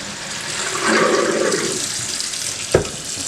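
Rinse water from washing pinto beans splashes and pours steadily for a couple of seconds, then a short knock or thud near the end.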